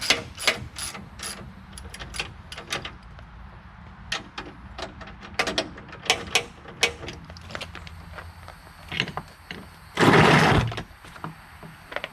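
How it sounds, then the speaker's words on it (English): Bolts fastened onto a bumper on an OBS Ford truck with a ratchet, rapid clicking pawl bursts repeated in short runs, close up, with a brief louder whirring burst near the end and no talking. "So we can get the bolts back on right here."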